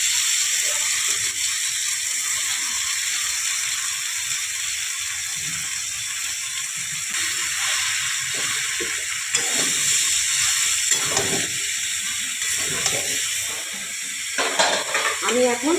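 Chopped bottle gourd added to a pan of frying prawns sizzles with a steady, loud hiss that carries on throughout, broken by a few scrapes and clatters near the end.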